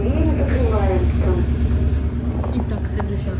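A Moscow suburban electric train rumbles as it pulls out, low steady wheel and motor drone with rising whine tones, while someone talks over it close by.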